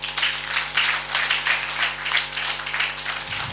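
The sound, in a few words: audience applause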